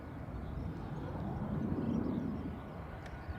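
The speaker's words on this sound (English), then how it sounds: "Ryanair from Pisa, and behind this is an A330" An Airbus A330 airliner at Dublin Airport gives off a steady, distant low jet roar that swells slightly toward the middle and then eases, with no talk over it.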